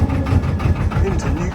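Narrowboat engine idling low after the revs drop, a steady deep rumble with vibration, close and fairly loud, with a voice talking over it.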